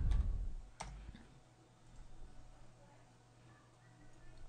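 A computer mouse clicks during CAD software work, with one or two sharp, faint clicks near the start in an otherwise quiet room.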